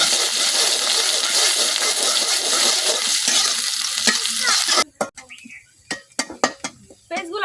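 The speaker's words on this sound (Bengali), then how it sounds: "পেঁয়াজগুলো ভাজা হয়ে গেছে" Onions fry in hot oil in a kadai in a village kitchen, first a loud continuous sizzle, then abruptly quieter scraping and clinking strokes as a spoon stirs them.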